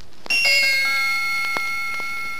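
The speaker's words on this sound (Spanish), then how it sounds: "hay que dar vuelta a la página cuando escuchen a Campanita, el hada de Peter Pan, tocar sus campanitas así" A bright bell chime rings out once as a page-turn signal, the tinkling bells of the fairy Tinker Bell from Peter Pan, clear and sustained with a few soft sparkling twinkles fading through the rest of the moment.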